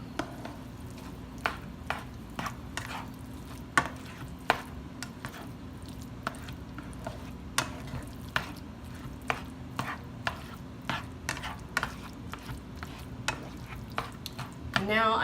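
Beef stroganoff cooking in a pan, with a soft steady sizzle under repeated sharp clinks and scrapes of a utensil stirring against the pan, close and fairly quiet, with no talking.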